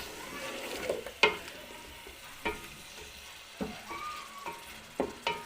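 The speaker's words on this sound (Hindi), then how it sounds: "अब ये आलू अच्छी तरह इसमें भून लूँगी।" Potatoes seasoned with salt and chili frying in a pan, with a soft steady sizzle underneath and a few sharp scrapes of a spoon at irregular intervals, fairly close and no talking.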